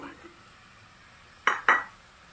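Fried meatballs go into a pot of spicy bakso broth: two quick, sharp clinks and clatters in close succession over a quiet kitchen background, near and fairly loud.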